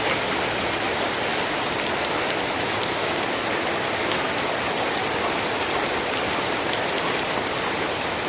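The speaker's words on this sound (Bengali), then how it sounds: "আর এই কিছুক্ষণের মধ্যেই আমাদের বৃষ্টি শুরু হয়ে গেল" Dense, steady rain pouring down, a continuous even hiss with no breaks and no voices.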